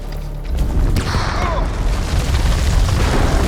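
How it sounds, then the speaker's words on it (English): Grenade blast in a war horror video game, a loud booming explosion that swells after a brief lead-in and rumbles on with sustained low roar and debris-like noise to the end, no voices over it. "That's a fucking grenade. Grenade!"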